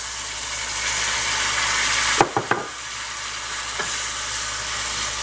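Chopped Roma tomatoes drop into a hot pan of browned garlic with a few sharp thuds and clatters, followed by a steady close sizzle, with no voices.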